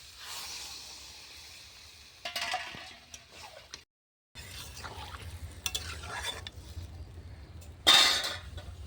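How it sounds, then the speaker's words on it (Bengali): Water is poured into mixed winter vegetables frying in a pan over a clay stove, giving soft hissing and stirring sounds, a brief silence, then renewed sizzling with a sharp splash-like burst near the end. "এবার অল্প একটু পানি দিয়ে দেবো"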